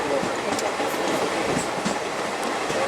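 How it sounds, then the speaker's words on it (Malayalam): Train pulling into Solakampatti railway station on a Thanjavur–Tiruchirappalli journey: a continuous, moderately loud rolling rumble with faint rhythmic clicks and occasional light squeaks throughout. "നമ്മളിപ്പോൾ സോളകംപെട്ടി എന്ന് പറഞ്ഞ റെയിൽവേ സ്റ്റേഷനിലേക്ക് കയറിക്കൊണ്ടിരിക്കുകയാണ്."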